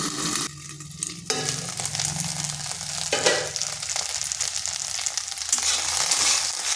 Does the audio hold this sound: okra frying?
yes